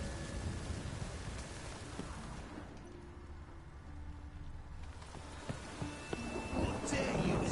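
Steady rainfall with low thunder rumbles in The Witcher 3, a fantasy video game, fairly faint and continuous, occasional sharper knocks near the end and brief speech in places.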